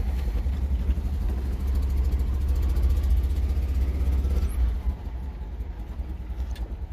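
A car engine drones low and steady at slow speed in first gear, a deep rumbling hum that eases off slightly toward the end.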